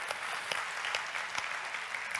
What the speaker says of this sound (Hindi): जोरदार ताली यीशु मसीह को देंगे।